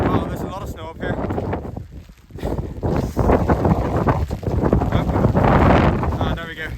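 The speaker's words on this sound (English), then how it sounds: "it is very windy" Strong gusting wind on a snowy mountain summit, Slieve Lamagan in the Mourne Mountains, buffets the microphone in a loud, continuous roar, with a person talking through it.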